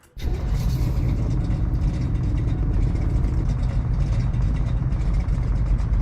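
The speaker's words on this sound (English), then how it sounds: "this one has to be probably the best and the loudest idle sound" A car engine in the Roblox game Greenville idles with a deep, loud, steady rumble that holds constant after a sudden start, with no voices.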